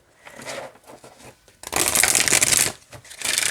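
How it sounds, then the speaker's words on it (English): A glossy oracle card deck being shuffled by hand, starting with a few soft riffles and building into a loud, dense burst of rapid card flutter that breaks briefly and then picks up again, close up and alone. "let's see how it shuffles."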